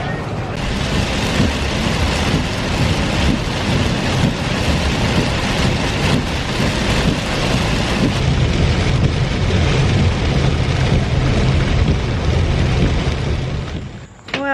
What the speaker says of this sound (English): Another torrential downpour.